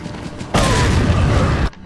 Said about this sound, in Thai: หยิบระเบิดขึ้นมา